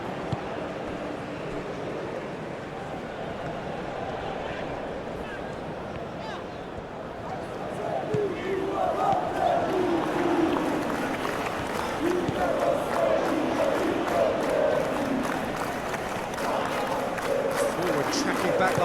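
Stadium crowd in a FIFA football video game, a Canada versus Bosnia World Cup match, a continuous roar that swells into louder cheering partway through while a commentator talks over it.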